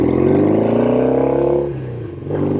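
1968 Norton Commando 750 Fastback motorcycle engine while riding, a loud, close, steady throbbing drone that drops in pitch briefly toward the end, then picks back up.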